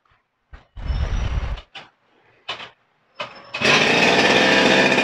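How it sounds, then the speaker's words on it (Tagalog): A TD40 grass cutter engine is tested: short bursts of buzzing two-stroke engine noise, then the engine catches and runs loud and steady at high revs. "Ito po yung TD40 po ninyo na grass cutter."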